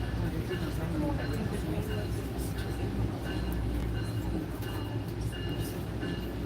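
Steady low rumble of an exo commuter train car in motion near Montreal, a continuous interior ride noise with faint rattles throughout.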